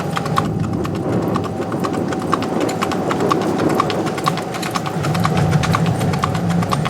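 A ridden mule's hooves clip-clop in a steady, quick rhythm on a trail, close and distinct over a continuous low rumble of movement and wind.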